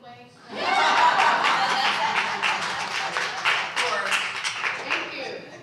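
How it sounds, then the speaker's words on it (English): An audience at a Toni Morrison celebration bursts into sustained clapping, dense and steady for several seconds before easing slightly, with some murmuring voices mixed in. "can y'all please clap anyway?"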